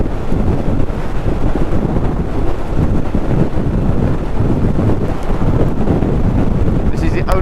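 Strong gusting wind battering the microphone while riding a 2023 Honda motorcycle on a road, a loud, continuous low roar and buffeting that fills the whole stretch.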